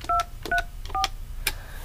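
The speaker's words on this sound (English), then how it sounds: "Enter in your password." Keypad tones from a Grandstream GXP2110 desk phone being pressed to enter a voicemail password, four short separate beeps in quick succession with button clicks, clear and close.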